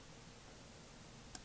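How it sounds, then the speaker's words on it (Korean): Two quick computer mouse clicks close together at the end, faint and crisp over low background hiss, made while editing in Premiere Pro. "클릭, 이쪽도 클릭, 또 클릭"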